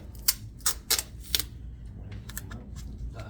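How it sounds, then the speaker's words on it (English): Tape is ripped off the roll in several sharp, close tearing bursts, about four quick rips early on, followed by softer, fainter tears. "I hold it down here, rip it off."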